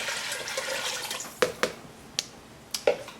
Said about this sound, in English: and 3 cups of water.